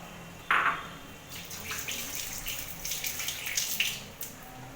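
Water from a tap splashing into a bowl coated with sour yogurt as it is rinsed out, a close, steady running splash with light clinks, while cooking a Bengali doi katla fish curry.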